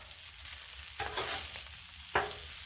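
Cajun fried rice sizzling on a Blackstone griddle as a spatula stirs it, with a few sharp scrapes and clacks of metal against the flat-top over a steady background fry, no talking.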